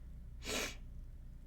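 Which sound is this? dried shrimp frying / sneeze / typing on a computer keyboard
sneeze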